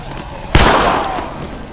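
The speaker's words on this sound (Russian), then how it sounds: "сейчас поорудуем пистолетиком, чтобы нам побыстрее пройти" A single sharp pistol shot cracks loudly from The Walking Dead: Survival Instinct video game, then trails off into a short reverberant decay. A faint game background sits beneath it.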